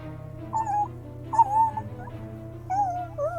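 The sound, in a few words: dog whimpering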